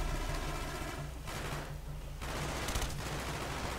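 Rapid automatic gunfire from Call of Duty Black Ops on the Wii, sustained bursts that run almost continuously through the clip, loud and close, with a brief lull near the middle.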